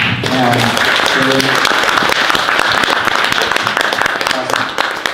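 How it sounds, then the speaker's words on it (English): Loud, dense applause from an audience at a business talk, steady sustained clapping filling the room, with a few voices and cheers mixed in. "Can we get a round of applause for Addy?"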